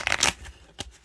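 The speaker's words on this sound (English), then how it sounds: "I'll shuffle one more time and I'll get a game started." Bicycle playing cards being shuffled give two quick riffling bursts close up, followed by a short single snap.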